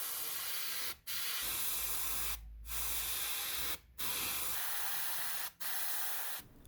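Airbrush-style spray of Tamiya LP11 silver onto scale model propellers for a 1/48 ICM Douglas B-26B-50 Invader, four hissing bursts separated by short pauses.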